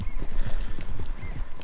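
Horse hooves clip-clop in a steady rhythm in Red Dead Redemption 2, close and loud, with snorting and a faint whinny mixed in.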